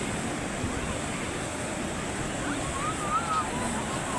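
Sea waves washing onto a shore at Gopalpur beach make a steady, broadband roar of surf under wind noise, with faint voices in the background.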